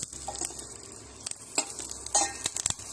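Curry leaves hitting a hot tempering for dal: a close sizzle with sharp crackles and pops, broken by scrapes and clinks of a spoon stirring against the pan, with no voices.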